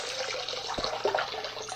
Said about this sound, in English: I'm going to pull this filter out. See if I can keep from getting myself all wet.